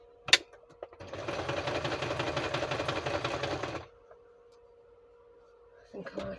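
A sewing machine stitches book-page journal cards in a quiet room, a close, steady rapid whirring run of about three seconds that stops, followed by a low hum and a short rustle.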